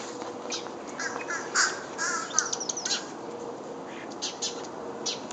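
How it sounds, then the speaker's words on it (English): Crows caw and smaller birds chirp in a backyard bird sanctuary with feeders and birdhouses near a pine tree, the calls moderately distant over steady outdoor ambience. "I call this the bird sanctuary in our yard because we have all our feeders over here, bird houses for our nature friends"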